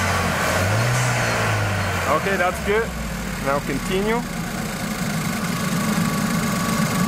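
A car engine runs during a battery tester check, a steady loud idle rumble filling the clip with slight rises in pitch, while a person talks over it.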